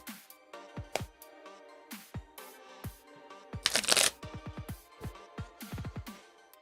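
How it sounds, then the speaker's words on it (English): Playing cards being riffle shuffled at a Magic: The Gathering game night, a close series of crisp fluttering riffles and taps on a table, with brief pauses between bursts. "I thought I heard a riffle shuffle."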